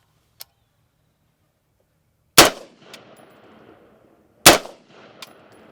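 A new rifle test-fired outdoors: two sharp, loud shots about two seconds apart, each followed by a short ringing decay and faint clinks from the ejected casings, with quiet between them.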